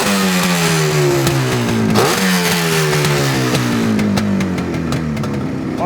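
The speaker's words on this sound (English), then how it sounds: "That, my friend, is what a 2-stroke's supposed to sound like." A 1971 Suzuki T500R Titan two-stroke motorcycle revs hard and close, its raspy exhaust note rising and falling through several throttle blips with no talking.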